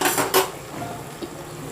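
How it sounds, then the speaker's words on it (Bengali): Ghetu leaves stirred in oil in a pan, a couple of sharp utensil scrapes and clinks near the start, then a low steady sizzle with a faint tap later, close and without talk. "এগুলোকে আমি ভালো করে অনেকক্ষণ ধরে তেলের মধ্যে নেড়ে নিচ্ছি, যাতে জলটা পুরোপুরি শুকিয়ে যায়।"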